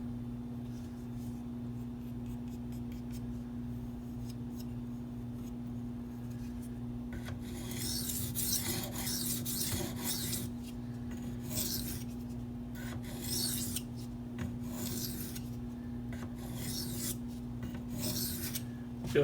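A Maxamet steel knife drawn across a Venev diamond stone in repeated rasping strokes, a bursty scraping rhythm over a steady low electrical hum, fairly quiet and close.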